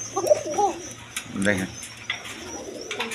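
A pair of Poka pigeons coo in soft, repeated low calls close by, with someone speaking over them and faint chirps in the background.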